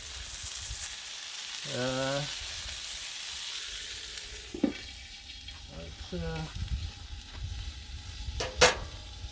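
A buttermilk-brined half chicken sizzles steadily on a Blackstone griddle, a continuous hiss with a few short scraping and clattering sounds and a sharp click near the end.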